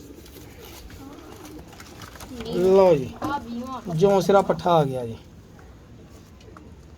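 Teddy pigeons coo in low, rolling bursts at close range while someone talks over them near the middle, with quieter stretches before and after.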